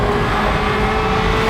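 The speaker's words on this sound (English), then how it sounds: "this is a 1994 Ferrari 348 Challenge" A 1994 Ferrari 348 Challenge race car with a 600-horsepower twin-turbo engine revs hard and close, a loud, steady, roaring drone with no talk over it.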